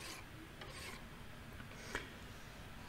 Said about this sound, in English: So now it's just a lot of tedious file work and sandpaper to try to get everything perfectly flat.